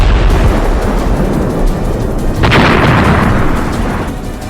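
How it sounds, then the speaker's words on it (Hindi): A HIMARS rocket strike blasting a Russian TOS-1A rocket system, heard as one loud, dense explosive roar that swells and rumbles through the whole clip, with a sharper burst partway in, close and sustained with no talk. "हिमार्स रॉकेट जोरदार धमाके के साथ उसे तबाह कर डालता है"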